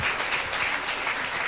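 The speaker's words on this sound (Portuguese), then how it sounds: "Graças a elas e para elas uma salva de palmas" An audience gives a round of applause for the women who once handled record requests at a local youth radio station in Tomar, steady dense clapping filling the whole moment at moderate volume.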